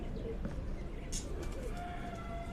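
Sialkoti breed pigeons, a breeding pair kept in Rawalpindi, coo softly and steadily over a low, continuous background hum, with no clear voices.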